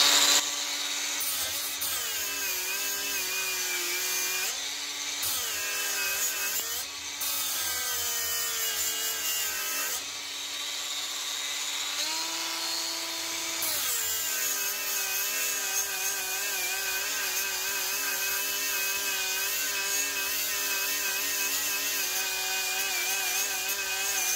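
A Bosch GWX 18V-10 SC cordless 1000 W angle grinder grinding down a weld, a loud continuous motor whine with a grinding rasp that shifts pitch several times as the load and speed change.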